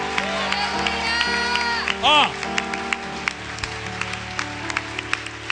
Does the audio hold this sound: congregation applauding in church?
yes